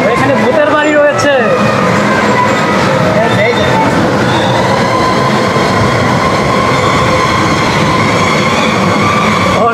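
Amusement park train ride at Sharif Dream Park in Keraniganj, Dhaka, rumbling steadily with a dense rolling rattle throughout, a few squeaky wheel tones near the start, and people talking over the noise.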